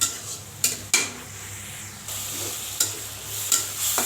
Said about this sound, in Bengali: আমি প্রথমে চিংড়ি মাছটা ভুনে নিতেছি